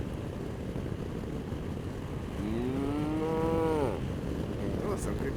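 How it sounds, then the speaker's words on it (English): A cow gives one long, rising and falling moo on open plains, heard at moderate distance over a steady outdoor background hum. "There's a lot of cows."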